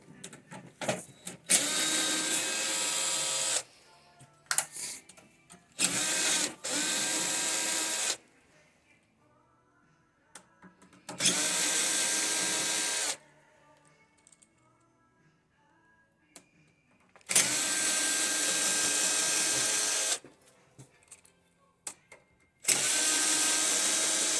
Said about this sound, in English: So I use this drill just to make it a lot easier and cheap.